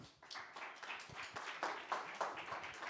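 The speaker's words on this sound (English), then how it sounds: "Guys, clap your hands for Anthony." Scattered applause and clapping from a workshop audience, a few seconds of moderate, uneven hand claps with no talk over it.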